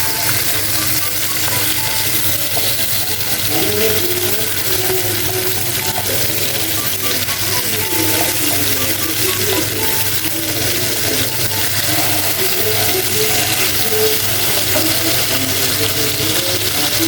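Chapila fish frying gently in mustard oil, a constant close sizzling hiss with small scraping and ticking sounds over it, no talking.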